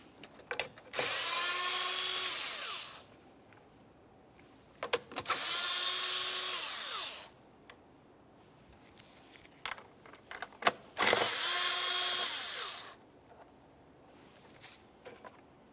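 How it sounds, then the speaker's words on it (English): A power tool removing 7mm-headed bolts from a 2001-2005 Ford Sport Trac XLT during alternator work whines in three separate bursts of about two seconds each, close and loud, with quiet clicks and handling noises between them. "we're going to have to remove 3 7mm headed bolts"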